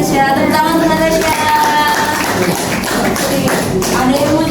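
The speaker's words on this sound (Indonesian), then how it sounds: "Tepuk tangan untuk Natasha." A classroom full of students claps for a classmate after she answers, a dense, steady patter of hands lasting a few seconds with voices murmuring underneath.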